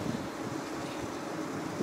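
Steady wind on Jeju Island, Korea, roars and buffets the microphone, a dense, constant rush with no pauses.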